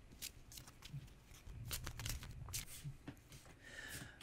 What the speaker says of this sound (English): And I need to shuffle.